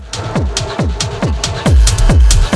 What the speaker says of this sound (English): What you're hearing now is the full finished track